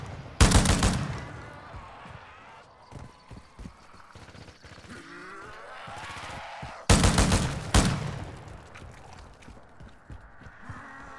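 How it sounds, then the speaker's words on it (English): Call of Duty: Modern Warfare III light machine gun cuts loose in two loud, dense bursts of rapid fire, one near the start and one past the middle, with quieter clatter, movement and faint voices in between. "Guardian and the light machine gun."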